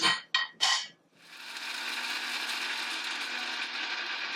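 A mixer grinder powders roasted almonds. A couple of short bursts start the motor, then a steady loud whirring grind runs to the end with no talking.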